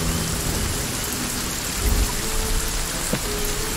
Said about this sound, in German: Der Regen ist sehr, sehr laut.